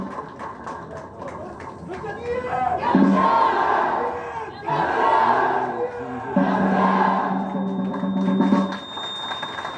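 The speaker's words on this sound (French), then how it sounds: "sous vos applaudissements, ils vont repartir, mesdames, messieurs." A large audience at a live exhibition event cheers and shouts in loud, sustained swells, with a brief dip partway through before the roar rises again.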